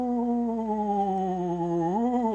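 A singing voice imitates a ghost with a long wavering 'ooh', sustained and slightly warbling before sliding upward at the end, close and alone.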